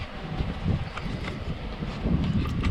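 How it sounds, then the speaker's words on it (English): Strong outdoor wind buffets the microphone in low, rumbling gusts that rise and fall unevenly and stay loud throughout, with no voices. "it is very windy out here"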